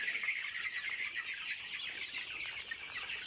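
Frightened Egyptian Fayoumi chickens cluck steadily in a flock on a farm, a dense, continuous chorus of overlapping calls close by with no talk over it.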